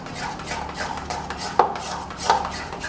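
A utensil stirs pizza sauce with sugar in a bowl, a close, soft scraping rhythm broken by two sharper clinks against the bowl. No one speaks.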